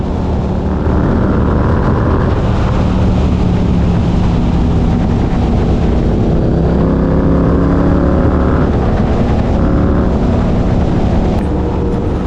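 A motorcycle rides a high mountain road through autumn foliage in Jeongseon, Gangwon Province, South Korea, giving a loud, constant engine drone mixed with rushing wind that holds steady throughout.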